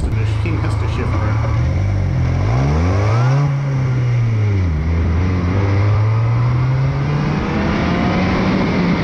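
A DF Goblin kit car fitted with a billet aluminum shifter accelerates and shifts gears, engine pitch climbing and dropping through a fumbled shift before rising again, loud and close inside the car with wind and road noise.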